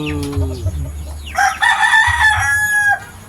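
Chickens and a rooster sound off close by on a backyard poultry farm, low clucks early, then a long loud cock-a-doodle-doo crow rising and holding before trailing off, with no talk over it.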